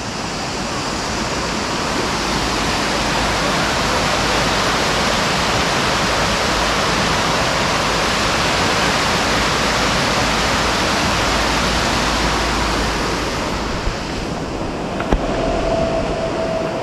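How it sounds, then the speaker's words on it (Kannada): River water rushing steadily beneath a bridge at Bisle Ghat, a dense, unbroken wash of flow that holds loud and close for the whole stretch with no voices. "ನೀರೆಲ್ಲ ಹರಿತಾ ಇದೆ."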